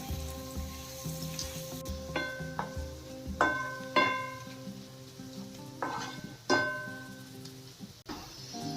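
Spice masala dry-roasting in a pan for garlic sev murmura, a soft steady sizzle with repeated scraping stirs and occasional clinks of a spoon against the metal pan, close up.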